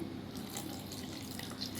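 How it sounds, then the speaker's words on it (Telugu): Water is poured into a mixie jar holding mint chutney ingredients, a steady close trickle for about two seconds with no speech. "కొంచెం నీళ్ళు వేసుకొని"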